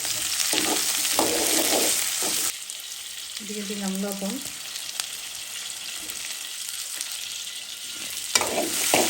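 Garlic, onion and green chilies fry with salt in a loud, crackling sizzle that suddenly quiets to a gentle simmer, with a voice briefly speaking over the pan.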